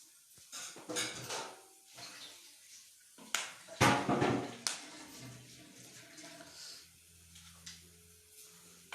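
Soaked rice tipped into a cooking pot with whole spices, a few clattering metal knocks, scrapes and soft wet pouring sounds, fairly close and intermittent with quiet gaps.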